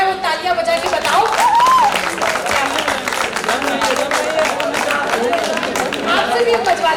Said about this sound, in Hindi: तो एक बार सारी लड़कियां जो है वो तालियां बजा के बताओ।